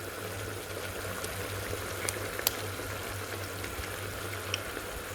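Veal stew sauce with cream simmering in a pan, a soft steady bubbling sizzle with a low hum beneath and a few faint clinks of stirring.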